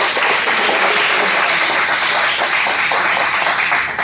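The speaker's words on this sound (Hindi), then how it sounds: "मैं चाहूंगा एक बार जोरदार तालियां" A large audience at a company sales event bursts into loud, sustained applause, a dense wash of many hands clapping at once without letup for several seconds.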